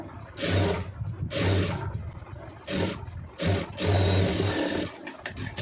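An electric sewing machine stitches a blouse lining in several loud, steady bursts of motor whirring and needle clatter, with brief pauses between runs.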